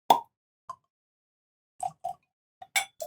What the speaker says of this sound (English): I love that sound, the glug glug sound.